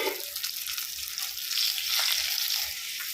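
Curry leaves crackle and spit in hot oil for tempering a chutney, a dense, bright hiss of sizzling that swells midway, close and steady, with no talking.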